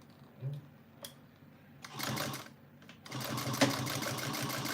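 A sewing machine stitches a zipper onto a small box bag, running in short bursts that grow into a steady, fairly close mechanical whir, with faint clicks between runs.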